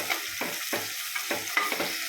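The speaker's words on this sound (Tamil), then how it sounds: "நம்ம 2 வெங்காயம் நல்லா கிண்டி விடணும்." Sliced onions frying in a pan for a Chennai-style chicken biryani, stirred in steady scraping strokes about four times over a continuous sizzle, close and clear with no voices.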